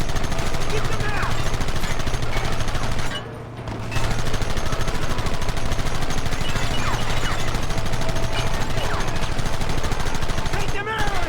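Dense gunfire from the Western video game Red Dead Redemption, a shootout at men hiding behind a rock, with steady crackling shots running nearly throughout, a brief lull near the middle, and shouted voices in the mix.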